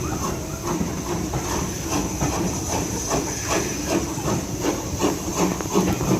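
A heritage train pulls out of Haworth station on the Keighley & Worth Valley Railway, a steady rumble with hissing steam and rhythmic wheel clatter, loud and close throughout.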